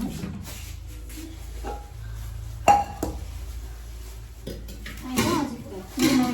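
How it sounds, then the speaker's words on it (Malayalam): Pots and lids clank and clink a few times close by, sharp metallic knocks scattered among quiet background noise. "ഈ പാത്രങ്ങൾ ആദ്യം മൂടി അവിടെ എടുക്കട്ടെ"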